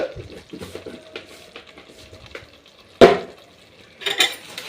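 Chili powder being stirred into a fish curry mixture in a pot: scraping, clinking utensil sounds at a steady, close pace, with one sharp knock partway through and a brief clatter near the end. No one speaks.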